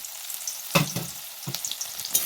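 Chopped onions fry in hot oil after nigella-seed tempering, a close hissing sizzle broken by a few soft thuds of stirring.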